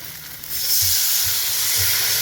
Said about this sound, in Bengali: একদম কষানো কমপ্লিট এবার জল দিয়ে দেবো